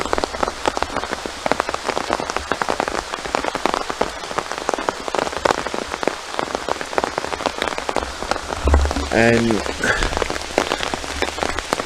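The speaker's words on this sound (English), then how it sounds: "I don't know how much you can hear me because of the rain, but it is piddling." Heavy rain falls in the woods, a dense, loud, steady patter on leaves and surfaces throughout, with a single spoken word and a brief low thump near the end.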